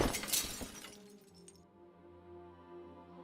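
In the Deponia video game, a stained glass window shatters in a bright crash of breaking glass. Tinkling shards fade out after about a second into soft game music.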